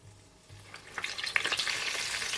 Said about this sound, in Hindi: बाकी भी इसी तरह से फ्राई कर लेंगे